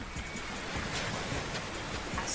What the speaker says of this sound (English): The ocean is so strong.